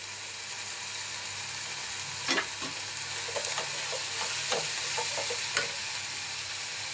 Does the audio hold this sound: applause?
no